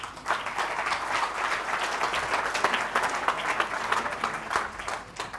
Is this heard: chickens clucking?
no